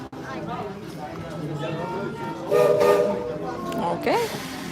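Under steady chatter and background noise, a steam train whistle sounds briefly near the end, a short rising tone following a louder burst of noise.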